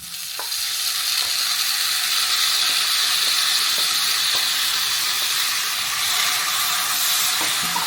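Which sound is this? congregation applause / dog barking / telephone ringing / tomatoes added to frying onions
tomatoes added to frying onions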